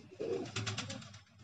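A female pigeon of the Firozpuri cross kept at home coos softly in a short low throaty burst, close and fairly quiet against faint background noise.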